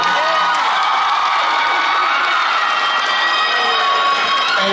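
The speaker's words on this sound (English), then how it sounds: "There are people there that are cheering you on. Yeah, y'all cheer for them." Crowd at a Decision Day 2023 event cheering and whooping continuously, loud and dense, with excited voices blending into a steady roar for several seconds.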